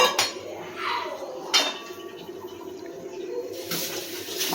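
A lid is set onto a cooking pot of flat beans simmering in water, giving a sharp metallic clink near the start and another mid-clip, with pot and utensil clatter and a watery hiss in between.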